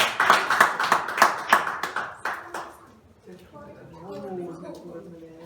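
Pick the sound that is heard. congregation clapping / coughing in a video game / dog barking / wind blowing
congregation clapping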